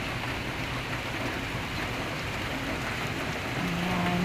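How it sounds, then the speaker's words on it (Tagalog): Heavy, continuous rain pouring outside a house during a typhoon, a steady dense hiss of drops on surfaces, loud and unbroken throughout with no talking. "Mukhang mahina lang yung ulan tignan sa camera pero malakas yan guys."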